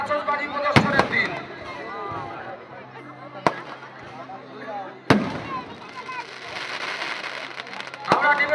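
Fireworks at the Jagaddhatri festival in Arambagh: several sharp, loud bangs and pops over a constant crowd murmur with voices.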